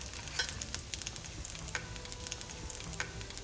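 Vegan sausages sizzle in a frying pan, a steady close frying crackle broken by small pops and light scraping stirs.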